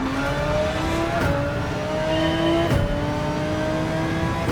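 An Audi RS Evo R8 race car engine in a racing video game drones loudly and continuously, its pitch climbing through gears with brief dips at each shift.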